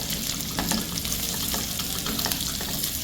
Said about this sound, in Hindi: अनियन को थोड़ा सा हम सॉटे कर लेते हैं।